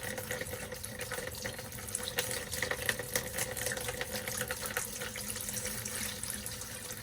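Water pours steadily into the plumbing of a Fun Finder camper during winterizing, a continuous splashing, gurgling flow with no break, close and moderately quiet.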